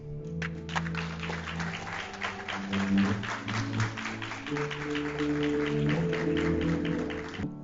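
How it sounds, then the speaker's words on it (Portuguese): Audience applause after a motivational entrepreneurship talk, dense clapping that swells and holds steady under sustained background music. "Mais uma salva de palmas para o Márcio."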